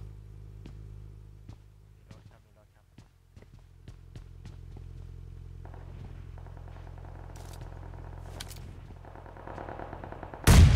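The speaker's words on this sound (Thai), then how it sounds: "โหยิงกันนานมาก" Scattered sharp gunshots in the video game PUBG Lite crack at uneven intervals, then a sustained mechanical buzzing builds and ends in a sudden loud burst.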